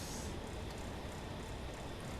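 A 4-6-2 steam tank locomotive runs in Train Simulator, giving a steady, dense rolling rumble at moderate loudness with no clear chuffs or whistle standing out.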